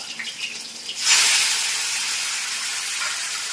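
After a quiet moment, a sudden loud, broad sizzle erupts as tomatoes hit hot tempering oil with mustard seeds and chillies, then continues as a steady hiss.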